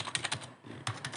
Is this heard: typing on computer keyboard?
yes